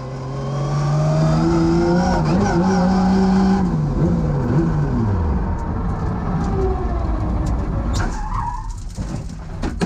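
A drift car at a competition run, its engine loud and roaring, then the revs fall away and the engine cuts out midway, leaving tire noise and scattered rattles as it coasts.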